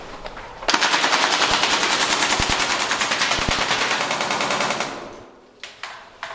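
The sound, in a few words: Marui AA-12 airsoft shotgun firing rapidly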